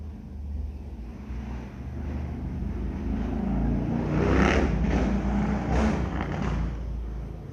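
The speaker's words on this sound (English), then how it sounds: "I know you probably heard them bikes in the background." Motorcycles passing along a street outside on a weekend evening, a steady low engine rumble swelling into a louder pass-by around the middle before easing off, heard from indoors at a moderate distance with no talk.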